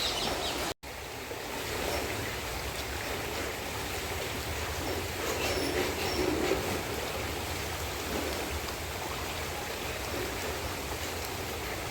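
The fast-flowing Ganga river rushing through Haridwar in flood, a steady, even roar of moving water that continues without a break at moderate distance.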